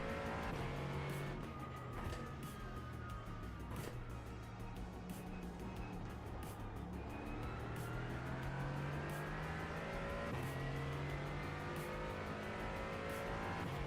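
Mercedes-AMG GT4 race car engine in iRacing, a steady loud drone with rising and falling pitch sweeps as it accelerates and shifts through gears, tyre noise mixed in throughout.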